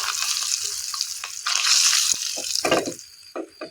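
Mustard seeds, cumin, turmeric and curry leaves crackle and sizzle in hot oil for a dosa chutney tempering, a steady close hiss broken by sharp pops and spattering bursts.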